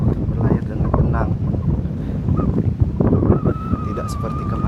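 Strong wind buffets a boat near Padar Island in Labuan Bajo, a constant rough roar with gusting bumps that stays loud throughout, and a faint steady whine emerges toward the end.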